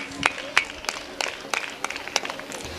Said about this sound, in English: Parents, give a big round of applause and cheer the students.